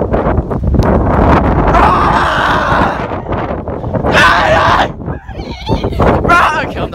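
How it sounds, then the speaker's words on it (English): Strong wind gusts buffet the microphone at a reservoir, a loud continuous roar of low rumble through most of the clip, with people talking and shouting over it. "It's very windy."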